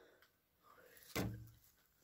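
A back door in an old, run-down manor house opens or closes with a single near thud and short rattle in a quiet room, with no voices.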